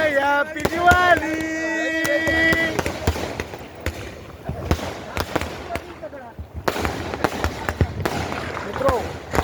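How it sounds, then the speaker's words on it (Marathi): Diwali firecrackers and fireworks pop and crackle in a steady string of sharp, loud bangs, with a whistling or fizzing firework and voices heard throughout. "आज सगळीकडे आज दिवाळीच्या निमित्ताने फटाक्यांचा जोर चालू आहे"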